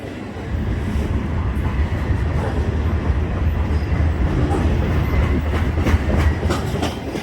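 A loaded CSX freight train rolls past close by, a dense, steady rumble of wheels and cars with faint clickety-clack on the rails, heard alone without talk.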